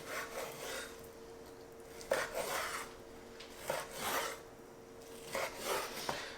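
A knife cuts raw steaks into half-inch slices, giving several short, close rasping strokes at irregular intervals over a quiet background hum.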